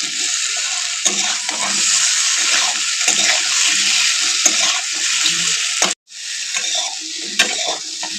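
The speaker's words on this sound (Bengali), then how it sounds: "এদিকে কিন্তু আলুটাও আমার ভাজা হয়ে গেছে।" Loud, steady sizzling of half-boiled potatoes frying in hot oil, with scraping stirs throughout and a brief pause near the end.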